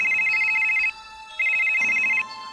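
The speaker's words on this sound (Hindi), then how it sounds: "तभी गुल्ली का फोन बजता है।" A cartoon mobile phone rings with a bright repeating electronic tone, two loud bursts separated by a short pause before the ringing drops away near the end.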